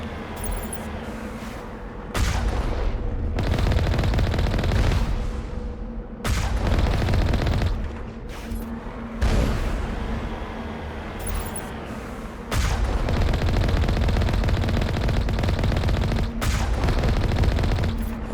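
Turret gunfire in Mass Effect Legendary Edition, sustained loud bursts of automatic shots with heavy booms, broken by several short pauses across the stretch and unaccompanied by talk.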